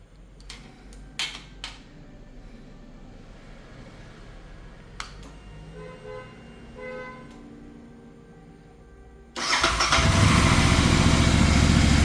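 Royal Enfield Interceptor 650 fitted with a performance air filter: a few clicks and a faint whirr, then the twin-cylinder engine catches near the end and settles into a loud, steady idle close by.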